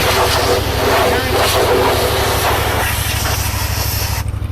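Continuous loud hiss of a pressure spray hitting an Earth & Turf 415-SP machine during washing, steady throughout with a low mechanical hum underneath.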